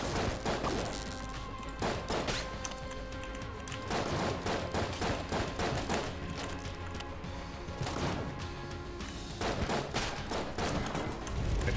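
Dense, continuous bursts of rapid gunfire from the video game Enter the Gungeon, loud and near, with overlapping shots and impacts blurring into a steady fusillade for the whole stretch.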